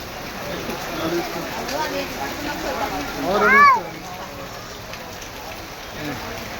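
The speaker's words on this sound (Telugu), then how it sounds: "వర్షం వస్తుంది కదా వర్షం వస్తుంది కదా" Steady rain hisses throughout in Shantinagar while voices talk nearby, and a short bird-like chirp rises briefly in the middle.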